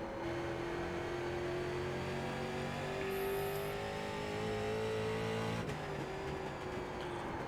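Race cars droning around an iRacing circuit, several engines holding steady pitched tones with gentle rises and falls, one car sweeping past near the end; moderately quiet and continuous.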